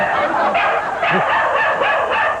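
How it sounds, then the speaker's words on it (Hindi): A dog barking in a Hindi film parody, a loud run of repeated barks in quick succession, close and busy, set against a noisy background. "कुत्ता।"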